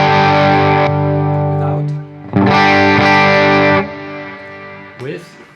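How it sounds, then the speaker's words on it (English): Chandler GAV19T guitar amp with its treble boost at full, ringing distorted chords that sustain, cut off, then return in a bright, gritty burst before a short final stab. "First setting is treble boost. I set it here to full intense so you can directly hear the difference."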